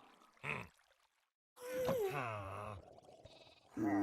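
A sheep in the Minecraft game lets out a couple of short bleats, one brief and one longer and wavering, separated by quiet gaps, fairly close and clear with no talk over them.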